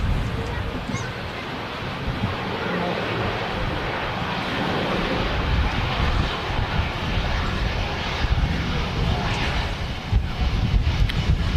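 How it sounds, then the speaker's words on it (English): An Etihad airliner departs Manchester Airport with a broad, steady jet-engine roar that builds gradually over gusty wind buffeting the microphone, and people talk faintly in the background. "We've got an Etihad on the way out as well, guys."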